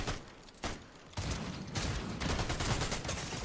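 Auto shotgun gunfire in the shooter game The Finals, a dense rapid volley of blasts in quick succession with heavy continuous game noise, close and loud.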